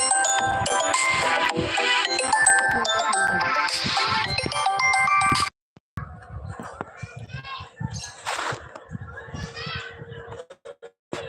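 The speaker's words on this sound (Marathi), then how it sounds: "सॉरी कॉल आलेला" A phone rings with an incoming call, a bright repeating tonal ringtone loud for several seconds, then cut off and replaced by quieter voices and background chatter.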